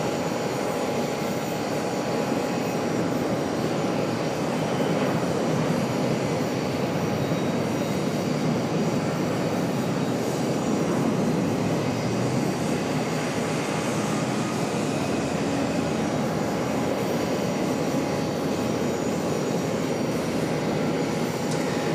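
An Embraer ERJ 145 LR regional jet, about 22 years old, at Charlotte airport, as a steady broadband engine roar with a faint whine that holds for the whole stretch without any voices.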